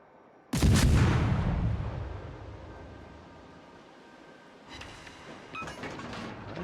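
Heavy naval gunfire from warships in World of Warships booms out as a loud blast with a long rumbling tail fading over several seconds, followed by a quieter cluster of distant shots and clanks near the end.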